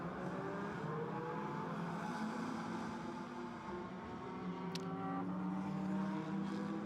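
A GT4 race car runs at the Jeddah circuit during pre-qualifying, its engine a faint, steady drone heard from a distance.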